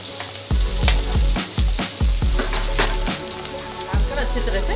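Chopped onion and green chili fry in hot mustard oil with cumin in a kadhai, a loud steady sizzle broken by a series of rhythmic scraping stirs, close and continuous with no talking.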